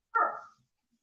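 A single short, sharp dog bark, close and fairly loud, followed by silence.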